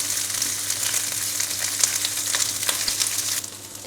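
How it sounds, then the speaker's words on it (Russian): Peppers sizzle and crackle steadily in a hot pan over medium heat with salt and garlic, a close, continuous frying hiss with scattered pops, no voices. "Жарим перцы на среднем огне."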